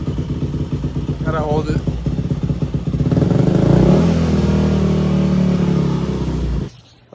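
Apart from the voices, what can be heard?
Yamaha dirt bike engine idling and revving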